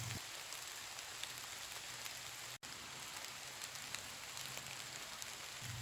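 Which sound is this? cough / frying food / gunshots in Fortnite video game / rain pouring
rain pouring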